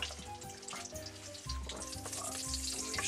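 Pork frying in a cauldron over a hot fire, giving a steady, moderate sizzle that grows denser and louder halfway through, close by and without speech.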